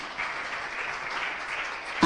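Conference audience clapping as a nanotechnology presenter leaves the stage, a short, moderately loud burst of mixed hand claps that ends with a sudden knock or thump.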